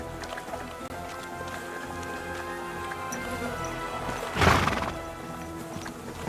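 Horse in the medieval game Kingdom Come Deliverance 2, steady clip-clopping hooves under a loud, close whinny rising midway, with soft ambient noise around it.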